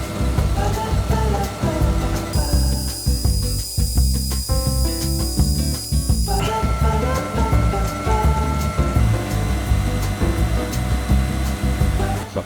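An ORTUR R2 laser engraver cuts with its cooling fan running, making a loud continuous airy whir like a blower, with a brief higher whine in the middle and no talking.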